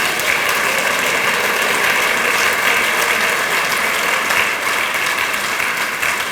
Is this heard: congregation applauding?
yes